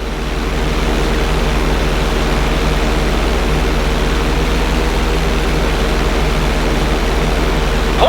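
Airplane engine and propeller in flight in GTA 5, a loud, steady droning roar with a constant low hum that holds unchanged throughout.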